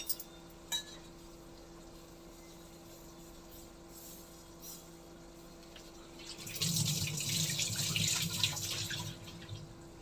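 A quiet kitchen with a faint hum and a couple of clinks, then a burst of splashing water starts partway through as water is applied to a flatbread, continuing to the end.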